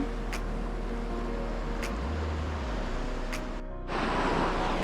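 Sea waves roll in at Devbagh beach in Malvan, a steady, loud surf wash mixed with wind buffeting the microphone. The roar swells slightly louder near the end.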